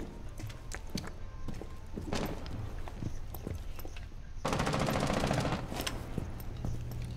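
Sharp gunshots from a pistol in the video game Rainbow Six Siege, several quick separate cracks, near and moderately loud, over ambient game noise with a denser burst of fire toward the end.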